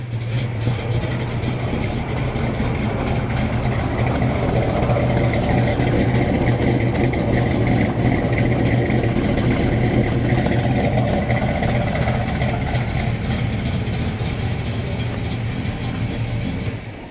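A 1970 Plymouth Cuda with a 440 Six Pack V8 idles steadily and loudly up close, a deep rumbling burble that holds even for the whole stretch before fading slightly at the end.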